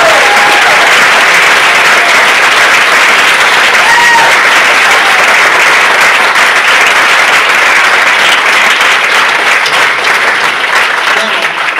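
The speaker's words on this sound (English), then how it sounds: "One more round of applause for our" A festival crowd gives the riders a final round of applause, a loud, thick, continuous roar of many hands clapping at once, sustained without a break and with faint voices mixed in.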